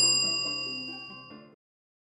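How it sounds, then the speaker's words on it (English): A notification bell sound effect rings out as a single bright, clear metallic ding with long ringing overtones, fading steadily over about a second and a half before cutting to silence. "click on the bell icon to receive notifications"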